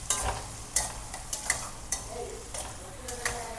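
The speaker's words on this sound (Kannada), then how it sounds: "ಅರ್ಧ ಈರುಳ್ಳಿಯನ್ನು ಹಾಕಿ ಇದನ್ನು ಕೂಡ ನೀಟಾಗಿ ಫ್ರೈ ಮಾಡ್ಕೊಳ್ಳಿ." Half a cup of chopped onion fries in a pan for girmit, with a quiet steady sizzle under repeated sharp scrapes and clinks of a spoon stirring against the metal, spaced irregularly.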